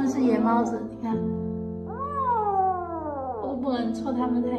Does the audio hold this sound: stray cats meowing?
yes